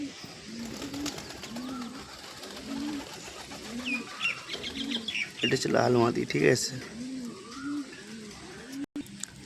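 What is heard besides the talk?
pigeons cooing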